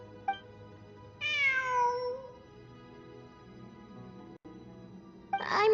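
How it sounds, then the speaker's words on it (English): Cat meowing in the Genshin Impact video game: a short chirp, then a long, loud, drawn-out meow, and another meow rising at the end, over quiet ambient background. "It really is a cat."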